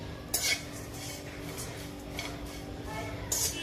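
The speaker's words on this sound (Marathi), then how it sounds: "कडक होईपर्यंत ही सुकट भाजून घ्यायची आहे" Dried fish dry-roasting in a hot wok, stirred with a metal spatula: quiet scraping with a few sharp clanks against the pan, near the start and again at the end.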